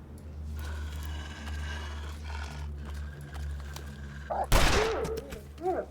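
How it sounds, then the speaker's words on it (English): Gunfire from a rifle in the survival video game The Long Dark, set on Timberwolf Mountain, comes as a sudden loud shot near the end over a low ambient game hum. "let's go on our shooting spree"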